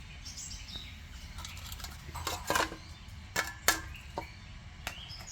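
Small toy kitchen plates from a child's play kitchen are handled outdoors, giving a scattered series of light clinks and taps, some sharper and louder than others, over a faint background with occasional bird chirps.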